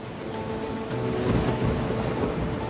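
Heavy thunderstorm over Austin, Texas, with steady rain and a broad rolling rumble of thunder swelling in the middle, loud and continuous with no talk.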